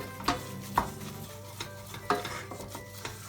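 A flour-based sauce, a roux for a roasted vegetable lasagne, is stirred in a pan, giving scraping spoon strokes at an uneven pace over a soft, steady sizzle, close and fairly quiet with no talking.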